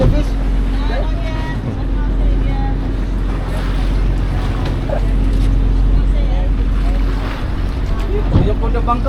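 A fishing boat's engine drones steadily at sea, a low continuous rumble with wind and water noise, while people talk over it throughout.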